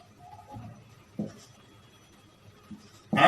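Pen or pencil writing out a math solution for a height and distance problem, giving a few soft scratchy strokes that are faint and sparse, ending in a louder, brief rub or scrape at the close.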